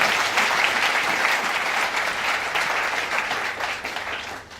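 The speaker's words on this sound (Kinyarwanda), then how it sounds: "dukomera amashyi menshi Imana yabashoboje" Applause from a gathered congregation at a live-streamed event, a dense steady wash of many hands clapping together, loud and continuous before easing slightly toward the end, with no talk over it.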